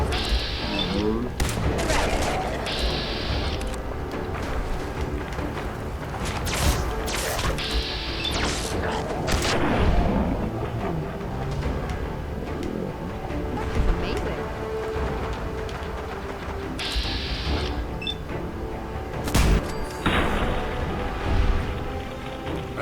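Gunfire from a gun in the video game Fallout, bursts of sharp shots and crashing impacts recurring through busy game sound, with a voice talking over much of it.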